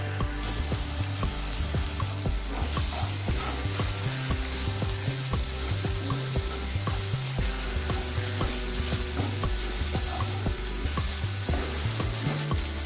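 Ginger garlic paste sizzles steadily in a hot frying pan, a loud continuous frying hiss with a few stirring scrapes, no voices.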